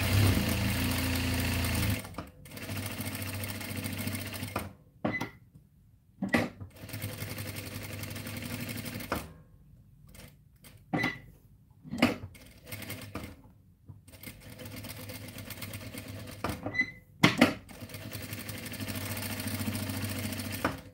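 Industrial sewing machine stitching a baby bib, running in several short bursts of fast, close mechanical whirring separated by quiet pauses and small clicks.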